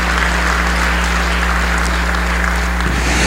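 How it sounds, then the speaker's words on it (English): Steady applause from an audience at a business excellence awards gala, a dense wash of clapping filling the room over a constant low hum, with no break throughout. "Let's have a big round of applause for the nominees that are going to be mentioned tonight"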